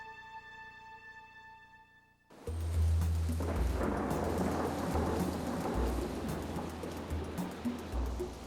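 Heavy tropical rainforest downpour with rolling thunder, a dense steady roar that bursts in loudly after a couple of seconds of quieter tonal sound and stays close and full, with low rumbles surging throughout.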